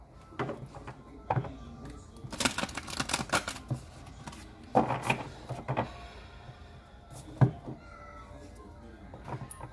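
Tarot cards shuffled by hand in a series of dry papery riffles and flutters, with a few sharper slaps, close and fairly quiet amid room noise.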